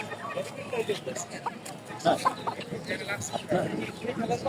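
Roosters and hens at the Hasnabad poultry market give short clucks and crowing calls amid a crowd's chatter, with nearby talk running over the birds.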